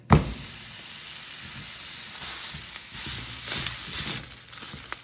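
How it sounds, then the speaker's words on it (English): Ground beef browning in a pan for pizza soup, giving a steady broad sizzle and hiss throughout with slight swells and occasional stirring scrapes, close and alone without talk. "we're just gonna go ahead and brown our ground beef"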